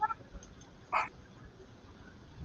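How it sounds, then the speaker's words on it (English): A dog gives a single short bark at a moderate distance, standing out briefly over a low background hum. "Dog's barking ferociously."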